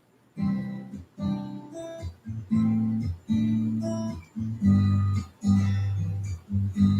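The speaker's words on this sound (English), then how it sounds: "I'm going to be applying it to this acoustic guitar" Acoustic guitar strummed and picked in a steady rhythm, chords ringing close and clear with short pauses between phrases, no voices.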